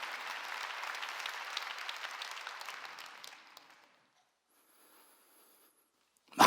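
A church congregation at a Sunday service claps together for about four seconds, a soft, somewhat distant wash of hands that fades to near silence before a sudden loud noise at the very end.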